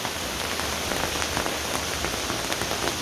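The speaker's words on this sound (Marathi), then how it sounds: "हे बघा पावसाचा जोर वाढलेला आहे" Heavy monsoon rain pours down steadily, a dense, unbroken hiss of drops striking surfaces, with individual splats popping out here and there, close and continuous without any talking.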